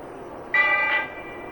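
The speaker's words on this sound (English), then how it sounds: "Is that a church bell?" A church bell rings once during a paranormal investigation in Dorchester, a bright tonal strike with a lingering hum that swells and fades over about half a second, heard at moderate distance in a quiet room.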